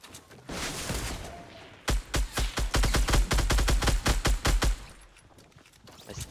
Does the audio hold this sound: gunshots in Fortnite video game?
yes